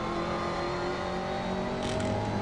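A GT race car in the Assetto Corsa racing game, Blancpain GT Series, roaring at full throttle in fourth gear, a steady loud engine drone with a faint rising pitch, no voices.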